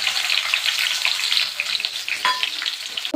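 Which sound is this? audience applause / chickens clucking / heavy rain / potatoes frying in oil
potatoes frying in oil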